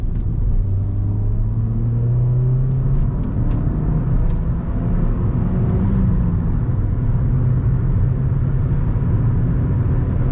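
Steady low roar of a Ford Fiesta cruising at speed, heard from inside, with road rumble and engine tones rising gradually over the stretch, no one speaking.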